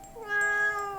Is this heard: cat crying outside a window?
yes